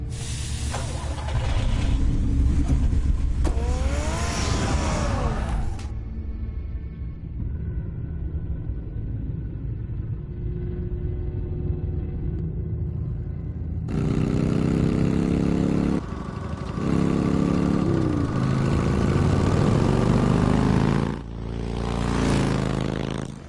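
A car engine in Telltale's Batman game rumbles at idle and drives off, with scraping and mechanical noise around it, a quieter stretch in the middle, then loud revving and motion returning, with no talk.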